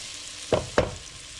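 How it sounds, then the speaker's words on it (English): Sausage and onions fry in a pan with a soft, steady sizzle, broken by two quick scraping stirs close by. "let the sausage cook while the onions are still doing their thing"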